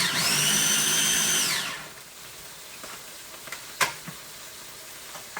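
Blender grinding herbs with oil runs steadily for under two seconds, loud and close, then stops, leaving quiet kitchen clatter and faint taps.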